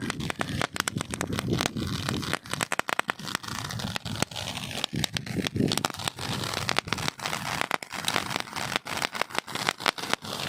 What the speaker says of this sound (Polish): niech sobie coś tutaj trzeszczy, coś, coś fontannuje